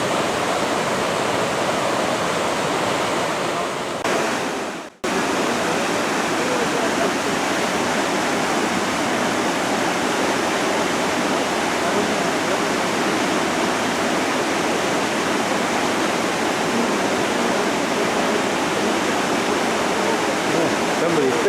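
The Falls of Shinn, a waterfall pouring through a deep river gorge, roars loudly and steadily at close range, a dense unbroken rush that dips for an instant before resuming.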